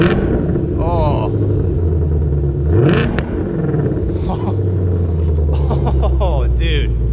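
A 2020 Ford Shelby GT500 Mustang rumbles deeply and revs up in short bursts, the engine loud and close, while people talk and exclaim over it.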